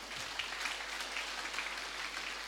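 Steady applause from an audience at a graduation ceremony for kindergarten and Quran-school pupils in Tanah Bumbu, a quiet, even patter of clapping with no voices, lasting a few seconds.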